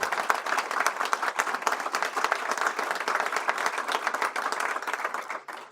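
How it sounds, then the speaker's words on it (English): A crowd applauds steadily for several seconds, dense clapping that holds at an even level before tapering off at the end. "let's give Mayor Bowser, Director Christy Whitfield a round of applause"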